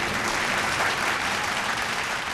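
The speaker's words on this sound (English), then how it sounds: "we have to give a massive round of applause to PNG Air" Thick, continuous audience applause at a live vocal competition show, a loud dense roar of many clapping hands holding steady from start to finish without speech.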